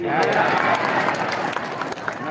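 An audience at an Indonesian religious talk claps in a steady, continuous wash of applause with voices mixed in, moderately loud throughout.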